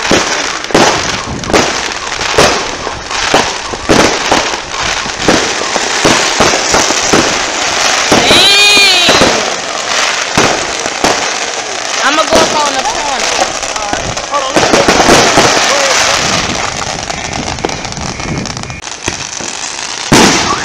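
Fourth of July artillery shell fireworks go off close by in a rapid series of sharp bangs and crackling bursts, with whistling tails rising in between. People talk and shout over the barrage.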